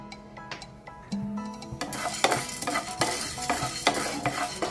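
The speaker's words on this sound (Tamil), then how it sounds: "அடுப்பை பற்ற வச்சு சட்டியை வச்சு இந்த மிளகு முதல்ல போட்டு வறுக்கணும்." Black peppercorns dry roast in a pan and are stirred, a crisp rattling scrape with dry crackle. Light tapping comes first, then steady stirring strokes fill the rest, close by and with no one speaking.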